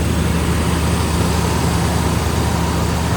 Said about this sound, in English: There's your 350 Target Master crate engine. Sounds really good.